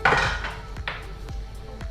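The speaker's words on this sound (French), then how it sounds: "je vais râper de la noix de muscade" Whole nutmeg scraped against a grater in a home kitchen gives a few short rasping strokes, followed by light metallic clicks and taps, close and fairly quiet.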